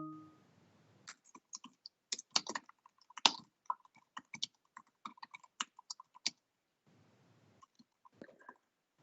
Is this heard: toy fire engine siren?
no